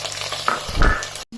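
Garlic hitting a hot pan for Kerala-style jathika pickle, a bright sizzle that swells as it lands and is stirred, close and loud, then cuts off abruptly.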